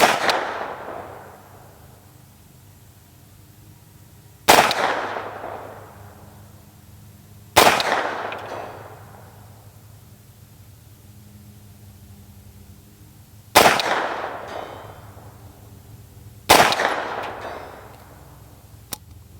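A SAR USA 109T pistol fired at a range toward a 200-yard target: five loud, sharp gunshots, each with a long echoing decay, spaced unevenly several seconds apart against quiet outdoor background.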